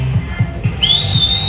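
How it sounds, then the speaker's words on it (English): A coach's whistle cuts through steady poolside noise during an 800 m swimming race, one long rising tone that starts partway in and holds to the end, loud over rhythmic splashing. "His coach whistling to him, telling him to pick up the pace now"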